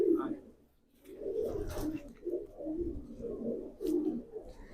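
Pigeons coo in a series of low, rounded phrases repeating over several seconds, fairly close, with a brief lull near the start and faint background noise.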